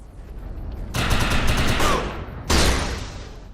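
Gunfire in the video game Defiance as a player shoots at projections, two loud bursts of rapid shots separated by a short pause.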